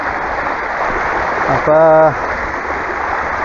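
Water runs steadily through a channel in Katara village, a constant loud rushing wash, with someone speaking briefly over the flow.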